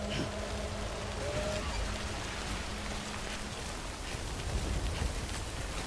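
Steady rain falls across a scene in the video game Death Stranding on PS5, a dense, even hiss of drops with faint low tones and murmuring beneath it.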